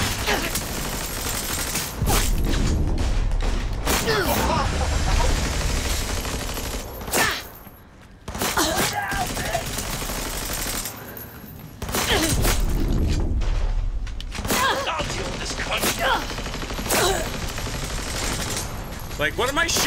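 Sustained, dense gunfire in the video game Cyberpunk 2077, bursts of shots filling most of the stretch with a couple of brief lulls, loud and continuous with game sound effects layered in.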